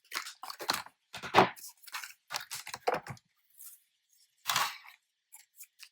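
Scissors trim cardstock for a DIY papercraft wedding album, giving a close, crisp run of rapid snipping and crunching cuts with a short pause before one final cut, with no speech.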